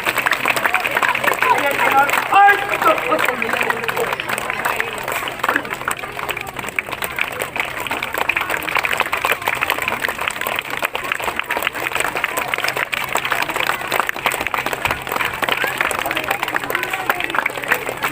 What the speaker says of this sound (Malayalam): എത്ര വേഗത്തെ കൈയടിക്കുന്നുണ്ടോ അത്ര വേഗത്തിൽ എല്ലാവരും കൈയടിക്കണം